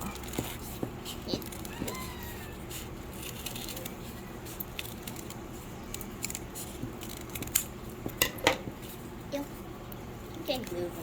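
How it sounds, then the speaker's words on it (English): Scissors snip hearts out of folded paper for paper flowers, with soft irregular cuts and paper rustles near the mic, while a person talks quietly alongside. "we're just gonna cut hearts out"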